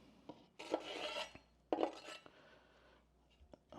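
Scraping and clinking as Italian sausage is stirred into sauce in a pan, two louder rasping strokes followed by lighter utensil taps against the cookware.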